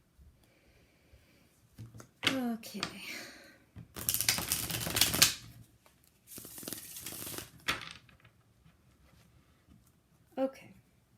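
Tarot cards being shuffled, with bursts of papery riffling and snapping in two longer stretches and a few shorter flicks, fairly close, and a brief spoken word near the end.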